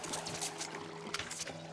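In the video game It Takes Two, water pours onto a plant in a greenhouse as a continuous close trickle and splash, broken by a few sharper splashy bursts.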